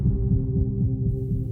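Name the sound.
heartbeat sound effect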